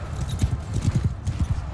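Horse hooves galloping in Mount & Blade II: Bannerlord, a steady rhythmic clip-clop of hoofbeats close by over continuous battlefield ambience.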